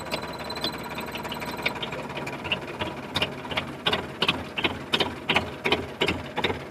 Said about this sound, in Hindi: तो हमने ये ट्रैक्टर को स्टार्ट किया